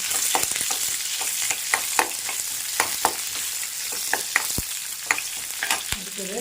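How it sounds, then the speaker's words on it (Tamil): Steady sizzling of shallots and curry leaves sautéing in hot oil for bitter gourd curry, with frequent small crackles and spatters throughout, close and moderately loud, no talking. "சின்ன வெங்காயம் போட்டிங்கன்னா நல்லாயிருக்கும் நல்லா கருவேப்பில் நல்லா வதக்கட்டும்"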